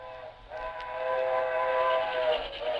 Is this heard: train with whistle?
yes